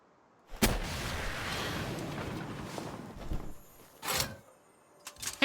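A rocket blast in the Palworld video game gives a broad booming rumble that sustains for several seconds, followed by a few sharper thuds and impacts with no talk.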